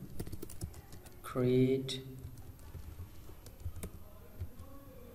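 Keys tapped on a computer keyboard while an npm command is entered in a terminal, quick scattered clicks running under a voice talking throughout.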